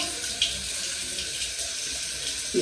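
Water runs steadily from a tap into a sink as a continuous broadband hiss, close and fairly loud throughout, with a brief louder splash near the end.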